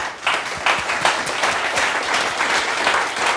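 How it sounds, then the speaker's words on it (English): An audience applauds after a pitch at a busking project demo event, a dense, steady burst of many hands clapping at once, loud and close, filling the whole stretch with no talk over it. "big round of applause for Nick"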